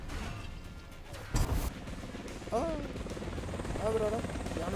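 Helicopter in the War Thunder video game, a steady broadband rotor and engine drone running throughout with a short crash near the start, while voices talk over it.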